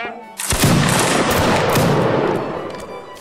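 A musket volley from a regiment in Mount & Blade Warband Napoleonic Wars: a sudden loud crackling burst of many shots at once, rolling on as a dense, slightly staggered fusillade that slowly fades, with no talking.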